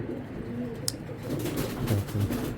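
Pigeons, racing birds kept in a loft, coo softly in low repeated phrases through a steady murmur of background noise, with a brief sharp click partway through.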